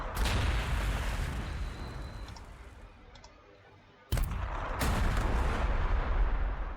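Missile team launches in the Warhammer 40,000: Sanctus Reach video game, two sharp booming shots about four seconds apart, each followed by a decaying rumble, loud and close with no talking.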